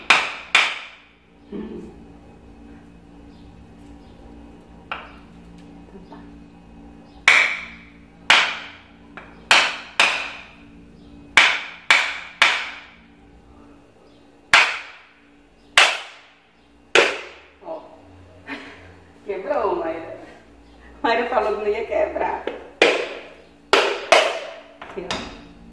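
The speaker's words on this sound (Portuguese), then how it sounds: "É com a colher de pau que vai ter que quebrar." A wooden spoon strikes hard to crack open a coconut in a home kitchen, landing as sharp, separate knocks at an irregular pace with a flurry of quicker blows near the end, while people talk in between.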